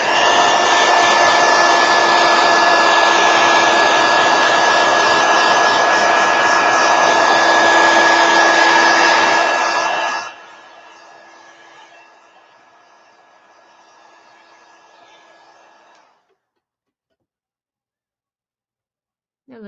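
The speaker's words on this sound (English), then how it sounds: "let me hit it quickly with a heat gun" A heat gun drying watercolor paint blows a loud, steady whooshing roar with a fixed motor whine for about ten seconds, then drops to a quieter fan whir that winds down and stops.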